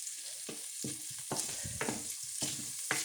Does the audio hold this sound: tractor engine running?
no